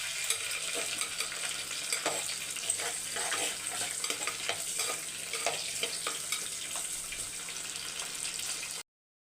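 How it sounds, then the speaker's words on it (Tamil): Garlic with green chillies and curry leaves sautés in a hot pan, a steady, fairly loud sizzle and crackle running throughout, with scattered stirring scrapes and no talking. "கொஞ்சம் பூண்டு வதங்கட்டும்"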